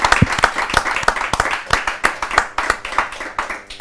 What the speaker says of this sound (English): A round of applause for Tommy.